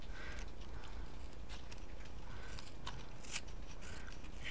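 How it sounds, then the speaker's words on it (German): Scissors snip the corners off paper for a wooden-stamp outline craft, a series of short crisp cuts in irregular rhythm, close and fairly quiet over a steady background hiss. "Und schneiden wir uns die Ecken weg."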